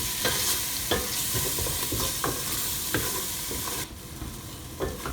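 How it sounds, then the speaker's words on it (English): Gravy mixture for Malvani crab masala sautéing in a pan, a loud steady sizzle broken by rhythmic spatula stirs and scrapes roughly once a second, close and without talking. "Let's add 3 to 4 tablespoons of gravy mixture. Saute this well."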